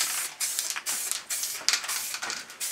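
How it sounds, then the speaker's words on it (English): Short bursts of aerosol paint spray lay a light grip coat on a bash plate in a garage, several quick hissing passes close to the microphone with brief gaps between them. "You're just spraying it on lightly."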